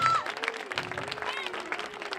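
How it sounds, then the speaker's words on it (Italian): Audience applause for a jury president at an evening Mister Clown 2014 event in Falerna, a steady, fairly faint patter of clapping throughout with voices and a sustained tone over it. "facciamogli un applauso,"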